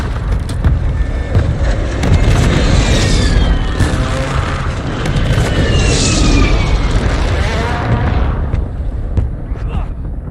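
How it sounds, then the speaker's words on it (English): Precision airstrike explosions in a video game, a sustained roar of heavy booms and rumbling blasts with whistling debris, loud and continuous, while a voice speaks over it. "Friendly precision airstrike inbound."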